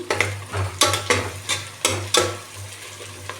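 Close, crackling frying of onions with green chilies in a pan, with repeated scraping strokes of a spoon stirring, rhythmic and loud over a low hum.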